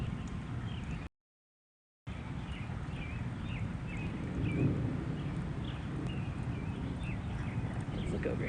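Thunder from a tornado-warned storm in Robertson County, Tennessee, a low continuous rumble under steady outdoor ambience, swelling slightly midway, with birds chirping faintly overhead.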